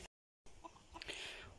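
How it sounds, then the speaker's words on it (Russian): Chickens roaming a backyard vegetable garden cluck in short bursts, fairly faint and close, with a brief silent gap near the start and soft outdoor background. "У нас тут куры гуляют."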